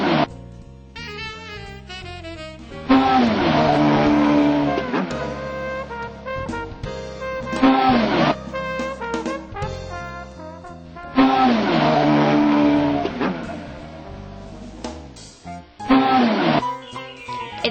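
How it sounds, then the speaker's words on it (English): A motorcycle engine revs and accelerates in repeated loud surges, its pitch rising through the gears, then easing off before the next burst, heard close with no talk. "It's a motorcycle."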